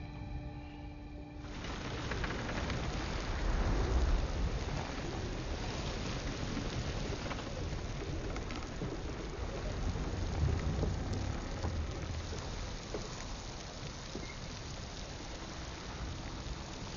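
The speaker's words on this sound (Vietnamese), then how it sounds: "Mưa vẫn còn kéo dài." Heavy rain pours steadily through a flood scene, a dense unbroken hiss with low thunder rumbling beneath it now and then, loud and constant from start to end.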